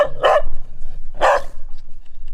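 Sniffer dog barking in a forest: two loud, sharp barks about a second apart, close and distinct, with no speech.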